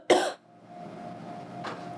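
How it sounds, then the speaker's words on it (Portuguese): A single sharp cough bursts out close to the microphone, followed by a quiet stretch and a faint second throaty sound near the end, in an indoor setting. "Foi na hora da tossida"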